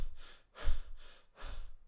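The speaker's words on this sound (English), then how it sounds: "if I go for a run like this and I'm out of breath, right, I'm using my chest to inhale" Heavy chest breathing, as when someone is out of breath after a run: three close, audible breaths in quick succession, each a rough, airy rush with short pauses between.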